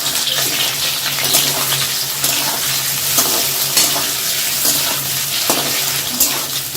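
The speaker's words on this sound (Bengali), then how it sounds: "আমার পনির ভাজা হয়ে গেছে আমি আর ভাজবো না হালকা হালকা লাল ভাজা হয়ে গেছে" Paneer pieces fry in hot oil with a loud, dense, continuous sizzle and crackle, close up, with brief bursts of spitting oil throughout.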